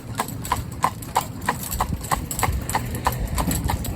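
Hooves of Silver the Cob, a horse pulling a cart, clip-clop along a road in a steady even rhythm of sharp close knocks over a low rumbling background.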